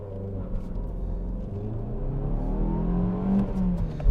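A 1.4-litre Fiat Egea Cross engine revs hard under acceleration, a loud, continuous rising drone heard from inside the car, with a brief bump near the end.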